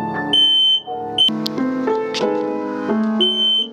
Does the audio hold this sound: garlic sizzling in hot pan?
no